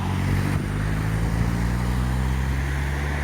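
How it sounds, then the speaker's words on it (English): A smart car passes through a roundabout in Stirling, Scotland, a steady low engine hum and tyre rumble holding at moderate level throughout, with other traffic noise blended in and no voices. "And a smart car."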